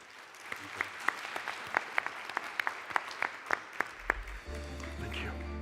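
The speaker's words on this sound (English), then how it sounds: "If you would join me in giving a round of applause" Conference audience at a green hydrogen summit applauding after a panel, a steady wash of clapping with sharp individual claps standing out, fading toward the end as a low hum takes over.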